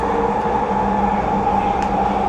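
An electric metro train rolls through Vancouver with a steady, close rumble and hum that never lets up, with no pauses or breaks and no talking.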